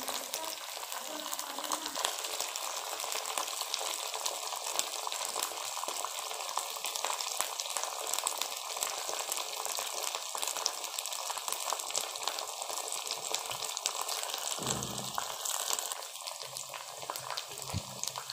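Okra frying in hot oil, a steady dense sizzle and crackle that runs continuously and evenly throughout at moderate loudness, with no speech over it.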